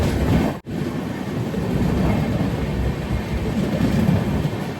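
The Sindhudurg Express rolls into a small Konkan Railway station with a steady, loud rumble and rattle of wagons, broken by one brief dropout near the start.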